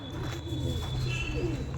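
Andhra pigeons, a breeding pair in a Kolkata loft, give low, soft cooing murmurs that run steadily throughout, close by, with no talk over them.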